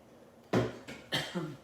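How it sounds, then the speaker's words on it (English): Three short, dry coughs in quick succession, close by, with brief pauses between them and no talking. "I feel like I'm going to start coughing"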